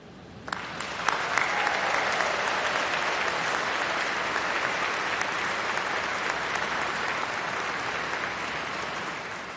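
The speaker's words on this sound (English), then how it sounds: "let's give a massive round of applause and huge cheer to say thank you to all your supporters" Graduation congregation audience breaks into sustained applause and cheering for the graduands' supporters, a dense wash of clapping that swells quickly and holds steady at moderate distance.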